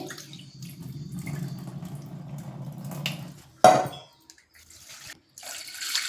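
Water sloshing and splashing in a pot as lentils are rinsed by hand, with a brief louder splash and pour midway, then quieter trickles.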